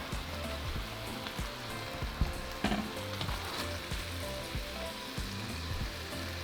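Meat browning in a hot pan for carne con chile, a steady, dense sizzle and crackle with small pops, continuous and close throughout.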